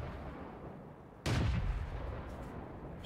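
A single heavy artillery shot fired in the World of Tanks video game, a sudden loud boom that cuts in sharply and then rumbles and decays over a steady engine drone.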